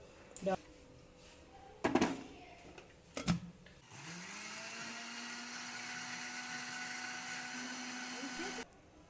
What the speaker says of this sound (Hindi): जग तो हर घर में ब्लेंडर होता है, तो इसमें ग्राइंड करेंगे हम।